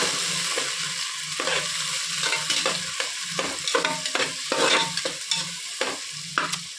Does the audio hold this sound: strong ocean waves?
no